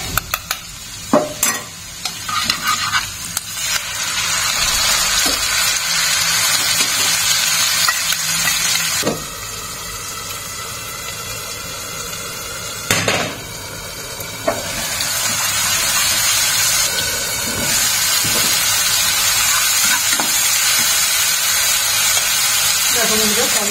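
Onion fries in a pan with a loud, steady sizzle, interrupted by occasional clatter and scraping from stirring, while a person talks over it.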